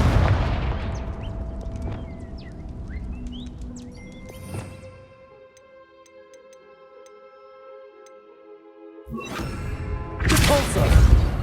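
In the Hogwarts Legacy video game, a fire spell bursts with a sharp crack and crackling rumble, settles into ringing, chiming tones and near silence, then a second loud fiery blast erupts near the end.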